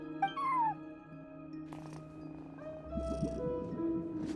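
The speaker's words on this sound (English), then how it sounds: "No one except for a cat watching over the front desk. Excuse meow?" A cat in a video game gives a short meow followed by a drawn-out, wavering mew, set against a soft background hum with faint rustling.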